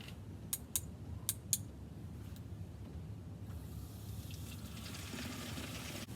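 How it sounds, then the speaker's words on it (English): Water pours and trickles into a container, preceded by a few sharp clinks at the start; the flow becomes a steady hiss toward the end. "So I filled it with water to about there."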